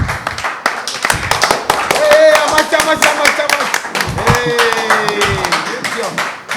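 A crowd claps loudly and steadily at a gathering in Kigali, dense rapid hand claps continuing throughout, with voices and cheers rising over the applause.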